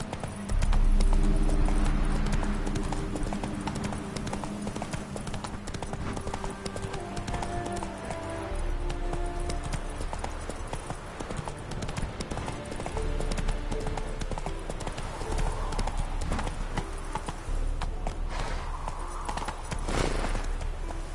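Horse hooves clip-clop continuously in the video game Witcher 3, a steady galloping rhythm running the whole time at moderate volume, with a brief snort near the start.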